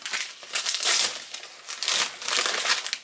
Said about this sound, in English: we're gonna unwrap it.